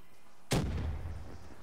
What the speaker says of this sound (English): I'm throwing a grenade in them.